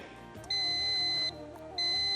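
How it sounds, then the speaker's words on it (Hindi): A quiz competition buzzer sounds as two long, loud, steady electronic tones. A short gap separates them, and faint background noise sits underneath. "आपने बजर दबाया"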